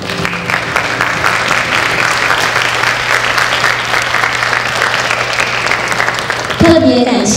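An audience at a middle school music recital claps steadily to welcome the school choir onstage, a sustained, evenly dense applause from a large crowd that fades into a different sound near the end.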